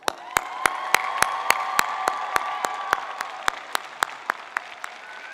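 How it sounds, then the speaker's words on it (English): Steady applause from an audience at a university convocation, with crisp regular claps standing out from the crowd's continuous clapping throughout. "Lift them up high right now with a big round of applause."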